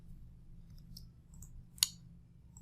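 A single sharp click from a computer mouse lands near the middle, alone over a low steady hum, with a couple of fainter ticks earlier.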